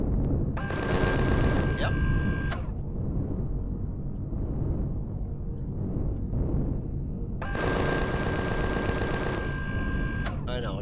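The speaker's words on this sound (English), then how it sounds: "And let's shoot these trees out. Now, can I shoot these shrubs out?" Rapid automatic weapon fire in the sci-fi survival game Empyrion, two long rattling bursts separated by a lull, loud and close over a low rumbling background, with someone briefly speaking.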